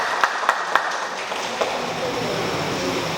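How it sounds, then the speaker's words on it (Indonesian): An audience at a regional candidates' public debate breaks into applause, a few sharp claps first and then a steady wash of clapping from the hall, with speech underneath. "marilah kita berikan aplaus kepada panelis dan juga pasangan calon"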